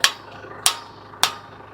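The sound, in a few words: hammer striking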